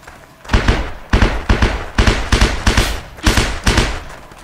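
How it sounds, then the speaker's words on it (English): Running footsteps in the shooter Heroes & Generals, a steady run of heavy, close thuds landing roughly twice per second with no talk. "we can hear the footsteps in this opening"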